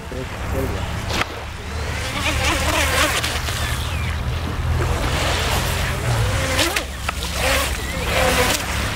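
A Prowler balsa wood RC boat on a 2S battery runs across the water, its motor a steady buzz amid waves and wind noise, with people talking nearby.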